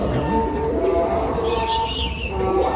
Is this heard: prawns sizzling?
no